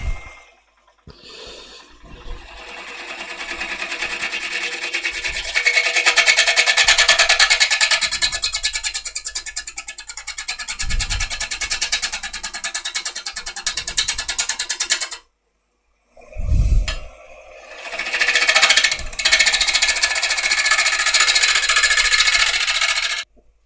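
A wood lathe spins a bowl as a tool cleans off its front edge, producing a loud, continuous scraping hiss that breaks off briefly partway through before the cutting resumes, with low knocks underneath.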